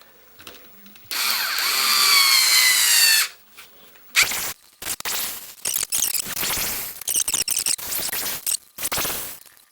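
A Harbor Freight cordless screwdriver drills with a bright, high-pitched whir that runs steadily for about two seconds, then gives way to shorter, choppy bursts of motor noise and handling clatter nearby.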